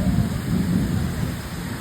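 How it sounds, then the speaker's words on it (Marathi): Loud, dense heavy rain pouring down with a deep continuous rumble of thunder underneath, steady throughout. "पावसाने केलाय प्रकोप"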